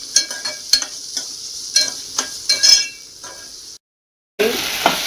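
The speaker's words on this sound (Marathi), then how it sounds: "कांदा, मिरच्या, कांदा लाल होईपर्यंत भाजून घ्यायचे" Onion and green chillies fry in a pan, with repeated stirring scrapes and light clinks over a steady sizzle that cuts out briefly before resuming louder.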